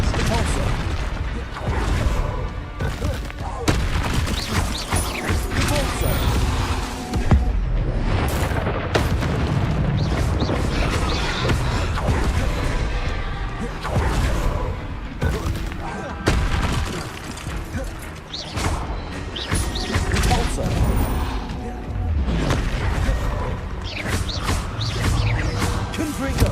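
Spell blasts such as Confringo, Repulsor and Expelliarmus cast in Hogwarts Legacy, a dense, loud barrage of booming impacts and bursts that runs continuously without pause, with a voice talking underneath.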